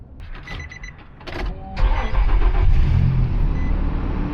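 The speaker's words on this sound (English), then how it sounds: "Now start the car again." A car engine cranks and catches after a battery change, the starter whir giving way to a steady, loud idle rumble that holds close and continuous to the end, with no one speaking.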